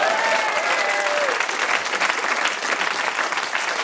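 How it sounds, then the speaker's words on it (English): A studio audience at a British television panel show breaks into loud, sustained applause that fills the room, steady and dense throughout with no voices standing out. "You can clap if you really like it."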